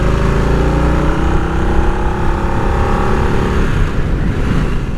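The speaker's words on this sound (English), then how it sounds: "It's a very different feel for Harley-Davidson and a very different sound." A Harley-Davidson Nightster motorcycle engine drones steadily and loudly while riding at speed, a constant low rumble with wind noise that holds an even pitch throughout.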